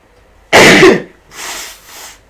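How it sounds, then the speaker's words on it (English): One loud, close sneeze bursts out sharply, followed by two softer breathy exhalations. "I'm just going to sneeze."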